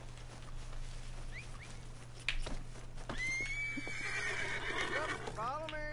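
Horses in the game Wild Times neigh loudly near the end, a long wavering whinny after quieter stamping and a few bird-like chirps, over a steady background hum.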